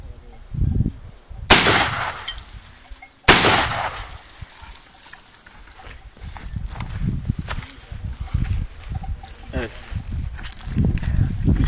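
Two loud test shots from a Makarov S20w 20-gauge shotgun firing 28-gram loads at a near target outdoors, sharp blasts about two seconds apart, followed by ambient rustling and footsteps.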